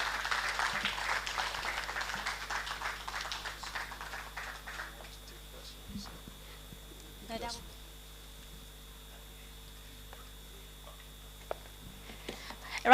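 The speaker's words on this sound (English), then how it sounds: "A round of applause for Dr. Falaye, please." Audience applause after a lecture in an annual lecture series. A spread of hand claps fades over several seconds, followed by scattered faint ticks and taps in a quiet room.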